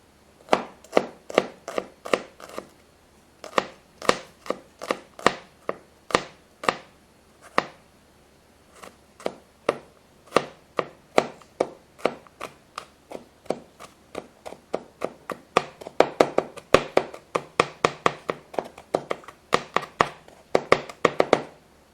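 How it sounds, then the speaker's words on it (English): A knife mincing a clove of garlic on a cutting board, a long run of crisp, close chopping taps in quick uneven bursts that speed up toward the end, with no talking. "moving on to my 1 clove of garlic. I want to mince that up"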